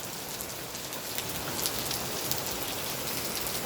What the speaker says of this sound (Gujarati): જોઈ લે વરસાદ જામનગર શહેરમાં 3 ને 5 ચાલુ થયો વરસાદ